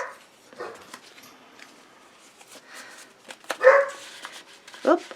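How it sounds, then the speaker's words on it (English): Several household dogs bark in short bursts in the background of a quiet indoor room, with louder yips near the end and faint voice-like sounds between them. "I have my dogs barking in the background."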